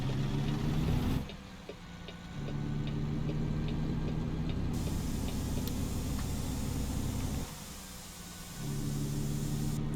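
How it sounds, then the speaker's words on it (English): A truck's turn signal blinker ticks at a steady, even rhythm in American Truck Simulator with a T-800 truck mod, sounding over the constant low hum of the idling engine. "Should probably turn on my blinker."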